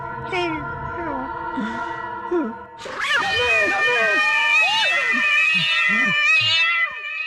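A cat in a comedy film scene meows repeatedly, with drawn-out, wavering cries that rise and fall, close and loud. A person talks at the start and the voice continues faintly beneath the meowing.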